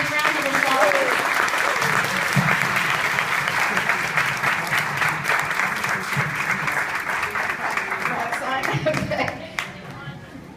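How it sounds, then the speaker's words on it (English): An audience gives a big round of applause, dense sustained clapping that carries on for several seconds before thinning and fading near the end, with some talk and crowd noise underneath. "Let's give them another big round of applause."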